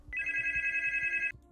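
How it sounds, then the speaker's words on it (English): A phone rings with a steady electronic bell tone held for just over a second, clear and fairly loud, then cuts off abruptly, with faint low thumps underneath. "That's my phone."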